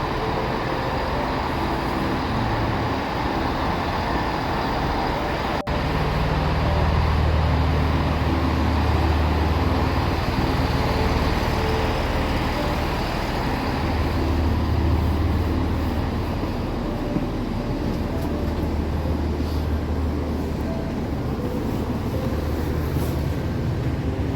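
Steady rumble of a train pulling away from a station platform on a winter morning journey toward Oxford, with continuous low engine and rail noise throughout and no talk.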